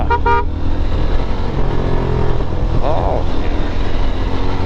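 A cement truck rolls along a road at night amid steady traffic rumble, with a short horn toot near the start and engine noise throughout.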